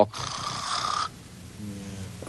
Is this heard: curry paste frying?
no